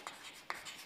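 Pen strokes on paper while filling in a cash book entry, two short scratchy marks close by against a quiet background.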